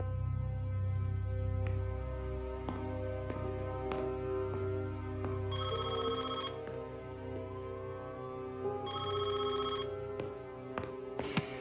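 A telephone rings in two separate bursts of trilling bells during a tense scene in an action film, heard over a steady background music score.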